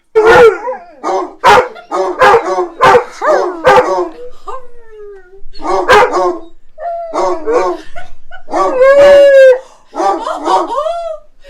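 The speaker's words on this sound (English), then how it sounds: "The puppy just howled." A puppy indoors lets out a run of loud, sharp barks, then a long rising howl, followed by more yips and barks close by.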